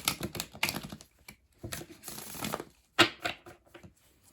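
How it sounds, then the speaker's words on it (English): Tarot cards being shuffled by hand in several quick riffling bursts with short pauses between, close and crisp, no talking. "I'm just going to give the cards just another good shuffle here"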